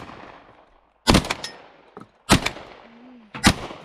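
Shotgun shots ring out during a thrush hunt: three sharp, loud blasts spaced about a second apart, each followed by a short echoing tail outdoors.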